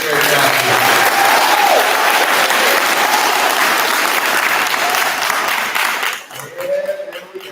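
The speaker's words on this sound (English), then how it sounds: "One more round of applause for the 5th grade staff." A school crowd gives the 5th grade staff a round of applause, dense and sustained clapping with some cheering that fades near the end as a voice starts talking.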